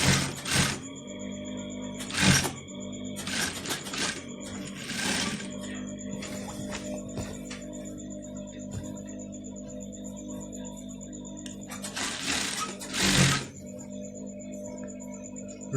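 A sewing machine stitches fabric for an owoko garment in short mechanical bursts of rapid needle clatter, two or three near the start and a longer run later, separated by a quiet steady machine hum.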